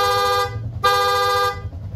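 On a rewired Yamaha Sniper 150 version 2 motorcycle, the horn blares in two sustained, loud blasts separated by a brief gap, with the engine idling underneath.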